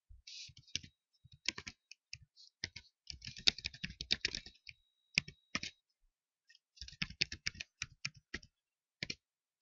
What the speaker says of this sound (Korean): 책에 나와 있는 예제를 한번 타이핑을 해 보겠습니다.